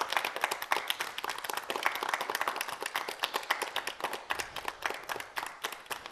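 An audience claps steadily for several seconds, a dense patter of many hands with no voices over it, at a gathering honoring mothers.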